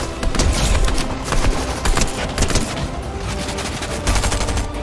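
Rapid bursts of gunfire crackle through a Fortnite match, loud overlapping shots and sharp cracks firing in quick irregular volleys with occasional heavier thumps, continuous throughout with no talking.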